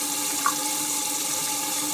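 A faucet runs warm water in a steady, close hiss and splash with an unbroken wash of sound and a brief small clink partway through.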